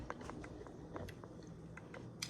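Someone chewing a mouthful of crab alfredo with fettuccine close to the mic, soft wet bites and smacks repeating quietly with no talk.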